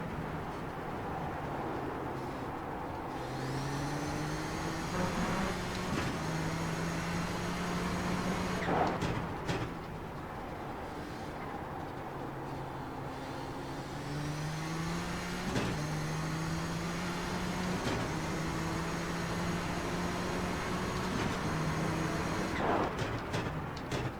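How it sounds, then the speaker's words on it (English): Turbocharged engine of a Nissan GTP ZX-T prototype race car in iRacing, a steady engine drone with rising and falling pitch sweeps as gears change, accompanied by a faint turbo whine, continuous at moderate level without speech. "Turbo's quieter in this car than the GTO."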